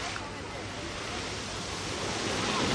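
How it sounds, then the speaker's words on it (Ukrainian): Sea waves at Sveti Stefan island, Montenegro, wash in a steady broadband roar, with wind buffeting the microphone. "Сьогодні ось такі хвилі."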